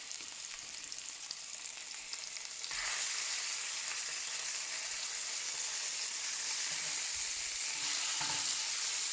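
Salmon fillet searing in a hot pan, a steady bright sizzle and frying hiss that grows louder partway through, close and continuous with no talk.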